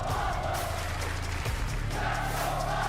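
Continuous booing from a big audience at an esports world cup LAN tournament, a dense crowd roar that holds steady and swells slightly near the end.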